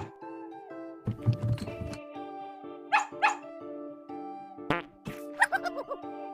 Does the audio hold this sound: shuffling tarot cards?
no